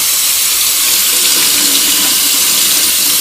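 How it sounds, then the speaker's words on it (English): Tap water runs in a steady, loud hiss while fabric freshly dyed with Osage orange is rinsed under it. The flow continues unbroken with no talk. "Now you got to rinse this out until the water comes clear."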